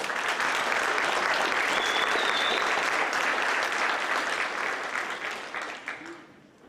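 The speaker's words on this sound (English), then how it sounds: "So let's give him a big round of applause, please" An audience applauds a scholarship recipient at a school awards program. The clapping is loud and dense, sustained for most of the stretch, then fades out toward the end.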